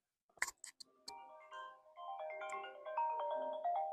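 A mobile phone ringtone sounds for an incoming call, a melodic electronic tune rising and sustaining at moderate volume after a few brief clinks at the start.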